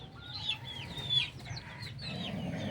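Chickens on a small mini farm cluck in repeated short calls near the listener, with hens sitting on eggs and chicks nearby, over a steady low rumble of background noise.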